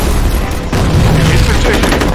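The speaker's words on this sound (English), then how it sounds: "Fire in the hole! Grenade out!" Grenade explosion in the shooter game FEAR during an online match: a loud, dense boom bursts in and rolls on with a thick rumbling roar, with game voices and combat noise mixed underneath.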